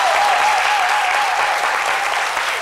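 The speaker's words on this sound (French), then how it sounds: "En applaudissements." A French TV studio audience applauds a young guest musician on a daytime talk show, producing steady, dense clapping that stays loud and close throughout.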